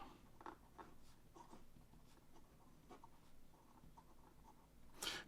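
Close, faint scratching of a ShiZen fountain pen's 18k gold nib writing on paper, with soft irregular strokes and a brief louder scrape near the end.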